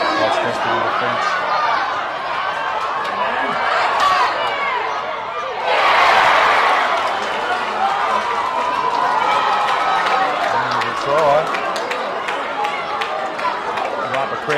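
Crowd noise at a junior under-11s rugby league match, with a steady murmur of spectators that swells briefly into a louder cheer, mixed with talking close by.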